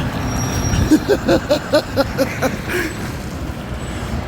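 A dump truck passes on a town street, its engine rumbling under a string of rhythmic pulsing air-brake or mechanical hisses, with faint background chatter.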